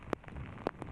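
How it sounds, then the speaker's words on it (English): Heavy rain pours down during an outdoor evening news report from a riverside park in Richmond amid a lightning storm, a steady hiss broken by a couple of brief louder splashes. "as you can tell, it is just chucking it down with rain"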